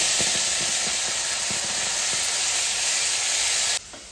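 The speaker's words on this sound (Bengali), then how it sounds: "পেঁয়াজটা ভাজা ভাজা হয়ে গেছে" Onion paste frying in oil with black cumin and bay leaf: a loud, steady, close hiss with faint soft taps beneath it, which cuts off near the end.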